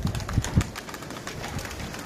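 A large flock of pigeons, around seven hundred birds, lifts into a cloudy sky, opening with a few soft low wingbeat thumps before settling into a steady airy rustle; no voices.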